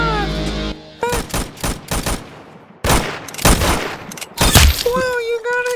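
Bursts of pistol gunfire from a shooting video game come in rapid clusters of loud shots with short gaps, mixed with game effects and tonal sounds near the end.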